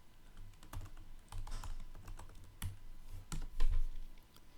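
Irregular bursts of clicking keystrokes as notes are typed on a computer keyboard during a university lecture, close and fairly quiet, with pauses between short runs of taps.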